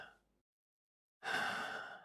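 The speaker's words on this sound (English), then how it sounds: "try taking a moment to do some deep breathing and lower your heart rate" Deep, slow breathing: a soft exhale trails off, a second of silence follows, then a long, clear breath in or out begins, close and isolated.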